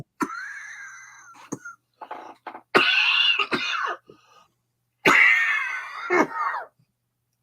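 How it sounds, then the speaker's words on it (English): Several harsh, raspy coughing fits from one nearby person, bursts separated by short pauses, with some wheezy breaths between them. "Letting me cough up a lung here."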